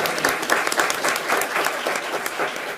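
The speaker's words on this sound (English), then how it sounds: "Yes, clap for her." Applause from attendees at a school board meeting, a dense, even patter of many hands clapping continuously, fairly close and moderately loud, with no talk over it.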